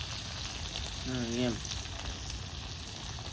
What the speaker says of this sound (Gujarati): હવે તળાવા દઈ માસલ્યોને ઘડીક વાર